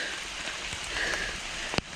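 Rain falls steadily on the Dehanakanda–Mukkuwaththa mountain trail toward Sri Pada, a soft continuous patter with one brief sharper knock near the end.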